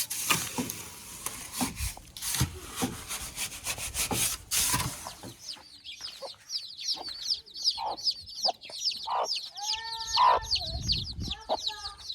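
Free-range village chickens in an African village clucking in short, repeated calls, following a burst of rough rubbing and scraping noise, fairly close and moderately loud.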